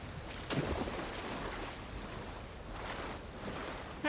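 A waterfall in Avowed gives a steady broad rushing wash of falling water, moderately loud and continuous, with a faint thump near the start and no voices.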